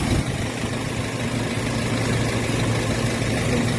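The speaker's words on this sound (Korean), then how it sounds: "엔진 소리를 한번 들어보시면은" A steady, low diesel engine of a used 3.5-ton wide-body wing truck idles without a break, a constant rumble with no voices over it.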